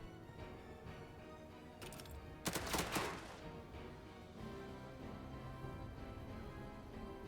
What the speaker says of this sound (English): They've been able to fire that machine gun team 3 times.